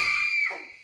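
A woman in a film trailer lets out a single loud, high scream that holds, then drops away and fades out quickly.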